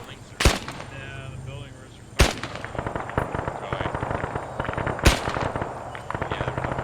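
Gunfire in an ArmA 3 Vietnam-era operation: three sharp, loud shots ring out spaced across a few seconds over a steady rattle of distant automatic fire, with voices talking beneath.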